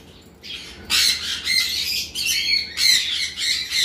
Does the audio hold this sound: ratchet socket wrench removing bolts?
no